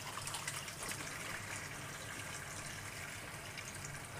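Hot water runs steadily from a tap over hands being washed, a close, even gushing spray with faint splashing and no voices.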